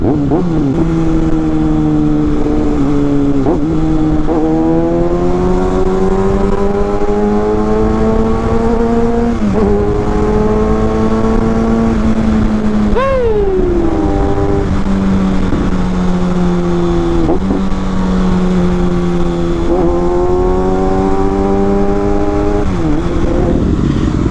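A Kawasaki Ninja ZX-6R motorcycle engine revs repeatedly, pitch climbing and dropping in waves with a sharp blip midway, loud and close with no talking.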